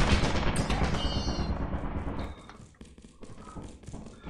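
Turret gunfire in a video game: a dense, loud burst of rapid shots at the start that thins out into scattered, fainter pops and taps.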